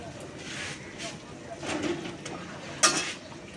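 Potatoes tipped into hot spiced, reddened oil in a pan for a Bengali kosha aloor dum, giving a soft sizzle and stirring scrapes with a sharp clink near the end, under someone talking.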